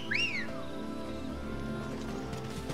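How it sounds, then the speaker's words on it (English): A wolf call whistle sounds in the video game Final Fantasy XVI, a brief rising-then-falling whistle at the start, followed by quiet game ambience. "Did we really just do like the wolf call whistle there?"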